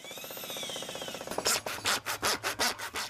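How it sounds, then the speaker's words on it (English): A bit bores 2-inch holes through house siding and a rim joist above a basement wall, a steady whine giving way to a rhythmic series of loud rasping, chewing strokes. "First, 2-inch holes are bored through the siding and rim joist just above the basement wall."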